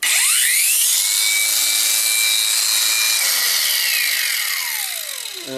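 An Einhell FORTEXXA 18/30 cordless chainsaw cuts through wood with a loud, steady high whine that holds for several seconds, then winds down near the end as the cut finishes.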